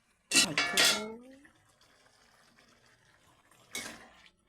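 A lid is set on a pot of simmering curry: two quick metallic clanks close together with a ringing tail, then quiet, then one more softer clank of the lid near the end.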